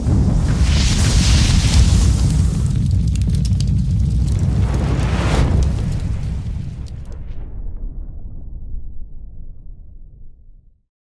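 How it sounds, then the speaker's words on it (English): Cooking fire being lit, a loud roaring whoosh of flame that rumbles for several seconds, then dies away gradually to silence. "Let's light the fire."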